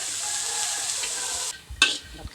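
Galangal and lemongrass dry-roasting in a pan for a Lao-style jaew bong chili paste, with a steady dry hiss and scraping for about a second and a half, then a few louder knocks and scrapes of stirring.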